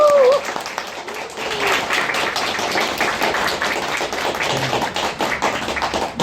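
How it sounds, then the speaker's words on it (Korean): A cinema audience at a film talk event applauds steadily, dense clapping filling the room without pause after a brief voice at the start. "큰 박수."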